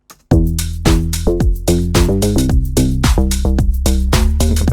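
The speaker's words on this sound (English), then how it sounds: "FM, so frequency modulation, to achieve this more metallic future house character" Metallic future house FM bass synth built in Serum hits a punchy, rhythmic pattern of short plucky notes over a deep sub, loud and upfront with no voices.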